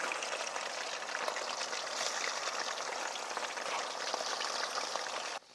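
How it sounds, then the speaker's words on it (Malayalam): Chicken pieces sizzle and crackle steadily in hot sunflower oil for a Pakistani kadai chicken, a dense, even frying hiss heard up close without talk, cutting off abruptly near the end. "നമ്മുടെ ഇറച്ചി ചൂടായ എണ്ണയിൽ ഓരോരോ കഷ്ണമായിട്ട് ഇട്ട് കൊടുക്കാം"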